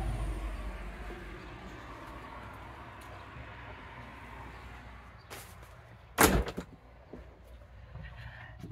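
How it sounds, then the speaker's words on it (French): A door is shut once with a sharp, fairly loud thud partway through, in an otherwise quiet room with a faint background hum. "Attendez, je vais fermer la porte."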